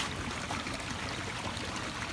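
Heavy rainwater rushes through an irrigation channel beside a road, a steady, dense roar of strong flowing water without pause, close by and alone.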